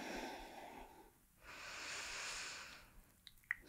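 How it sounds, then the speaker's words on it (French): Slow, audible breaths during a yoga flow: a long exhale of airy hissing, a pause, then another drawn-out breath, faint and close, ending in a few soft clicks. "On respire."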